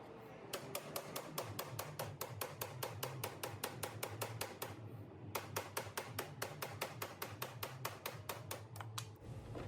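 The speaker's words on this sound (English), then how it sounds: "You might need some WD-40 and to hit it with a rubber mallet" Rubber mallet tapping a go-kart hub to free it from the axle, a fast, steady run of light repeated knocks with one brief pause, faint and without speech.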